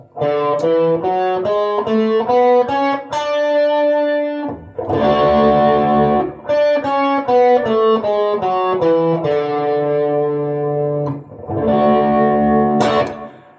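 Electric guitar runs up and down a Lydian mode scale, note by note, through distortion and chorus effects, with sustained chords between the runs.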